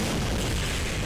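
A moon cannon firing in the Fate/Grand Order video game, heard as a loud, continuous booming roar of an explosion filling the whole short stretch without a break.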